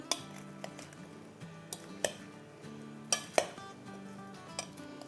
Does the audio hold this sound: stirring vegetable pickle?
yes